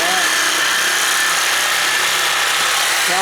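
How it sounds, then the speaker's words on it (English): A loud, harsh reciprocating saw grinds steadily through cast iron sewer pipe, a continuous buzzing rasp up close with no pauses. "Sawzall into that."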